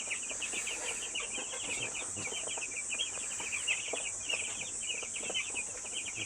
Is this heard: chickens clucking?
yes